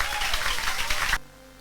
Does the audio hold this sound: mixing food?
no